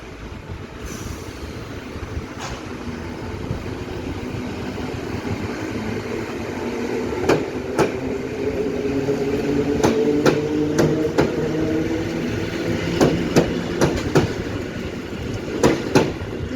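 An electric train starts rolling at Bydgoszcz Główna station after releasing its brakes, a steady broad rumble with rising motor whine and intermittent metallic clicks of wheels over rail joints, no voices.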